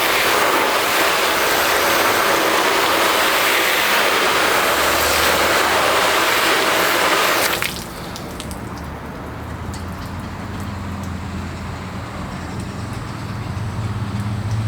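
Water is sprayed onto a car's painted surface while testing a ceramic detail spray, a loud steady hiss that cuts off abruptly midway, leaving a quieter, low background hum.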